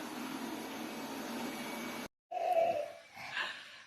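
A steady toy vacuum cleaner drone runs at moderate volume, cuts out abruptly, then a brief whirring rise and dip follows.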